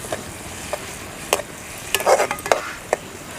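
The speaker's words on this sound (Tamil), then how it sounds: "வெங்காயம் பூண்டெல்லாம் நல்லா வதங்கிடுச்சு." Onion and garlic fry in a pan while a spoon stirs them, giving a quiet sizzle with intermittent scraping and tapping knocks, close and fairly bright, with no voices.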